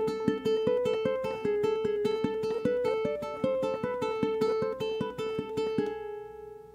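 Riff A on ukulele, a steady stream of straight eighth-note plucks in a driving rock pattern, ending on a ringing final note.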